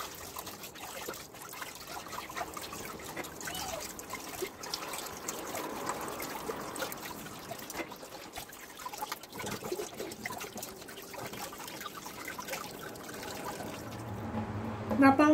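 Running water trickles and splashes steadily close by, with soft handling noises as salt is rinsed off under a tap.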